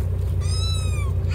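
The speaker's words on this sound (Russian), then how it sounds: "Все, хватит мяучать, поехали." Kittens meowing inside a car: one clear, drawn-out meow rises and fades over the steady low hum of the vehicle.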